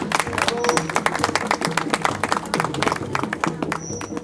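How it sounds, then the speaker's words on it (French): An audience applauds at a head-shaving charity event for Leucan, dense steady clapping filling the whole stretch at close range with a few voices mixed in. "Une bonne main d'applaudissements."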